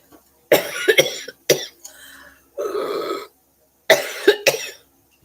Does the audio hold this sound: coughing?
yes